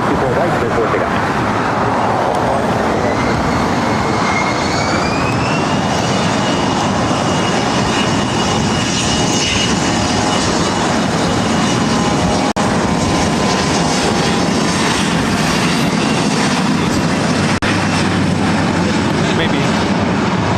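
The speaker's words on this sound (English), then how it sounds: "CRJ 700ER will be taking off to Seattle." A CRJ 700ER jet airliner takes off at LAX with a loud, sustained roar that fills the whole stretch, a broad engine rush with a rising whine, while radio chatter plays underneath.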